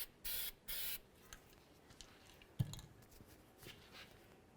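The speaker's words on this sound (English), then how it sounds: "let's apply some copper never seize on the threaded area of the inner tie rod end" Copper never-seize is sprayed onto the inner tie rod threads of a 2005-2010 Ford Explorer in two short, close hissing bursts, followed by faint handling clicks and a small knock in a quiet workshop.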